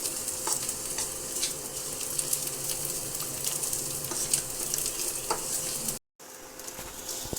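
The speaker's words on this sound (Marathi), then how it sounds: "आणि मंद गॅसवर मंद आचेवर याला व्यवस्थित भाजून घ्यायचं आहे" Soybeans and flax seeds roasting in a pan over a low flame for a dry chutney. A continuous crackling hiss runs under the light scrape of stirring, heard close, then cuts out briefly near the end.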